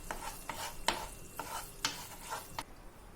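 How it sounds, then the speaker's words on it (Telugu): A sweet fries gently over a low flame, a quiet soft sizzle under repeated scraping stirs of a spoon against the pan, about six strokes at an uneven pace, with no voices. "లో ఫ్లేమ్లో 10 నుంచి 15 నిమిషాల వరకు ఫ్రై చేసుకోవాలి"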